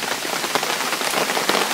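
Heavy rain pours steadily at a campsite, a dense, close hiss of drops drumming on surfaces with no let-up and no voices.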